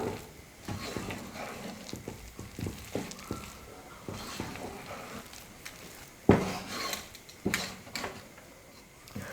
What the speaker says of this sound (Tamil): நல்லா கரண்டி வச்சு நல்லா கலந்து கொடுத்துக்கோங்க